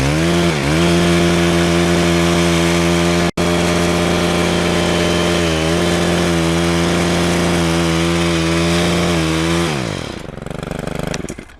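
A motorized cutting tool, likely a small chainsaw or trimmer, trimming ornamental grasses tied in bundles in late winter, its engine droning loud and steady with brief pitch dips as it bites, then winding down.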